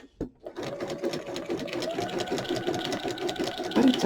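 Sewing machine running steadily through a half-zigzag binding stitch on a junk journal page, a continuous close mechanical whir with a brief start click before it settles in, no talking.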